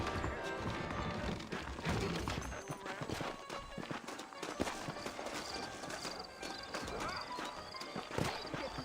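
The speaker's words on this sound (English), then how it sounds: "I got the horses saddled up and ready out front." Horses' hooves clip-clopping in the western video game Red Dead Redemption, irregular thudding hoofbeats mixed with a busy game soundscape and occasional sharper knocks, fairly loud and continuous.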